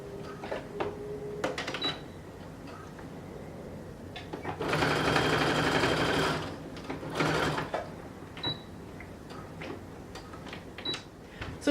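A sewing machine stitches a pants seam, with a steady loud burst of whirring stitching lasting a couple of seconds, plus a shorter run later, between quiet handling and clicks.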